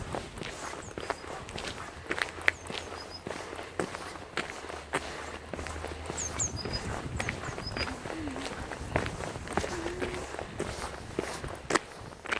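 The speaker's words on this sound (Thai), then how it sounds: "ตรงนี้เป็นช่วงที่ชันมากต้องเดินอย่าหยุด" Footsteps tread steadily up a steep hiking trail, a continuous run of close, crunching steps with occasional wind noise and no clear talk.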